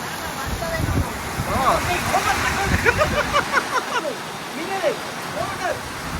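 Heavy rain falls at Palaly, a constant wash of hiss and splatter heard up close beneath people talking throughout.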